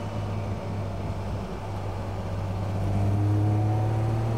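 A Ferrari 250 GT Coupe engine idles and pulls from tick-over at low revs, a steady deep drone that swells slightly louder in the second half, with no talk over it.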